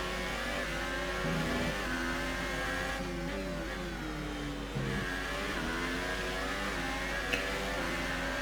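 Racing cars in a racing video game, several engines revving and shifting pitch together as they brake and overtake into the first corner, a steady close drone of layered engine tones.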